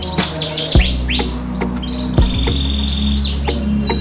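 A canary sings in the morning, close and loud, with bright rising chirps and whistled sweeps repeating over a busy background.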